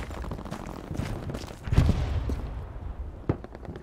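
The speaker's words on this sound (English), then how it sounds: "Guessing from the direction of that gunfire?" Battlefield gunfire in the World War II shooter game Brothers in Arms, a muffled spread of shots with a louder burst in the middle and a sharp crack near the end over a steady noisy background.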